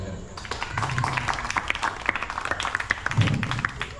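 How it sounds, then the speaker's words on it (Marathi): Audience applause at a Bhim Jayanti celebration in a Nagpur residential colony, a steady crowd clapping that carries on for about four seconds with scattered sharper claps and some low murmur underneath. "त्यांच्यासाठी सर्वात अगोदर खूप मोठ्या टाळ्या उद्या"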